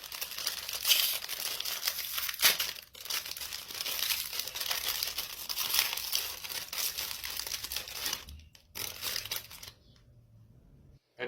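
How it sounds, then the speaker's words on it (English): Foil bags of chocolate-filled biscuits crinkle and rustle continuously as they are handled and torn open, fairly close and soft, with brief breaks before falling quiet at the end. "There's different foil bags inside, quite a lot."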